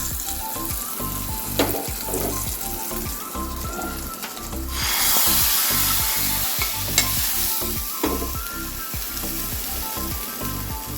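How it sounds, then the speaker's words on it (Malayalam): Hot tempering sizzles loudly as it goes into a sweet raw mango pachadi, a steady frying crackle with stirring scrapes that swells partway through and keeps hissing to the end, with no talking. "നമുക്ക് വറവ് ഇതിലേക്ക് ഇട്ട് കൊടുക്കാം"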